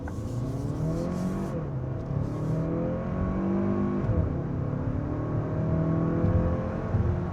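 A 2027 Kia Telluride Hybrid three-row SUV accelerating at full throttle, a steady engine drone and whir rising in pitch over several seconds, heard from inside the cabin with no talk.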